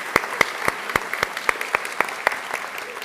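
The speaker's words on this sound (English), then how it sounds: "I just want to give everybody a huge round of applause." Applause from an audience at a school honors ceremony, sparse and rhythmic, individual claps ringing out about every quarter second, fairly close and steady with no voices.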